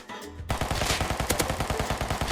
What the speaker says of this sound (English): This was the strongest SMG, and it still is the strongest SMG.